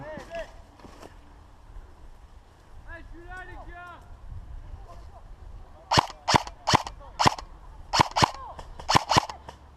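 During an outdoor hostage rescue airsoft game, a rapid series of sharp, snappy airsoft shots rings out in irregular pairs and bursts in the second half, following earlier shouted talk among players.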